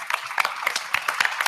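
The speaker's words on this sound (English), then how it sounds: "Let's give Cathy another round of applause." Audience applause at a women-in-technology summit panel, a short burst of scattered hand claps with distinct sharp hits over a steady wash, moderately close and with no voices.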